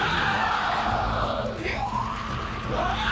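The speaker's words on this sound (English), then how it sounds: "the Nazgul kind of jankily stab and then shriek" Shrieking of a Nazgul from the Lord of the Rings Fellowship of the Ring PS2 game, a loud sustained screeching cry that swoops and wavers over a dense game soundtrack for about three seconds.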